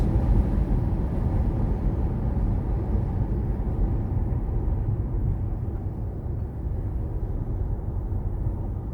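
Low, steady rumble of a train crossing an elevated track overhead along Boston Road in the Bronx, heard from a car below; a loud broadband roar holds evenly throughout with no speech.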